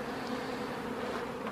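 Honey bees buzz steadily around flowering chestnut trees near an apiary, a close, continuous droning hum with no voices.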